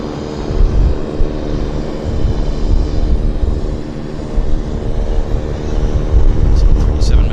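Boeing 737 Max airliner holding on the departure runway at Vancouver Airport, a steady low jet-engine rumble and broad roar, moderately loud and continuous, with a faint higher whine near the end.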